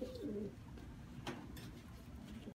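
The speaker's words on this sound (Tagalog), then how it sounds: "Nababarawan yung mga kalapati natin dun, o." Pigeons in a backyard loft coo softly in a few low, throaty phrases against steady background noise, with no talking.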